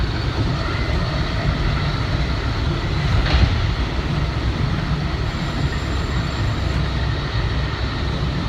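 An LIRR M3 commuter train runs steadily in the early morning from Jamaica toward New York Penn, a continuous rumbling, rattling wheel and track noise heard from inside, with a brief squeal partway through.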